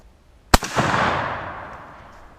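One loud AK47 rifle shot with Lake City 7.62 NATO ammunition, outdoors: a sharp close crack followed by a long, fading rumbling echo.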